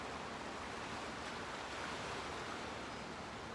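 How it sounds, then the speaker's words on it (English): Ocean surf washes in a steady, broadband roar during a morning guided meditation by the sea, with no breaks or voices, just continuous soft wave noise throughout. "maybe to the sound of the ocean"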